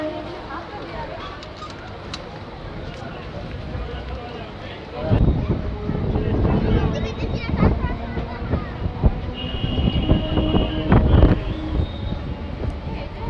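A Bardhaman–Katwa local passenger train pulls away, its heavy rumble and clatter swelling midway and continuing steadily, with a voice talking over it.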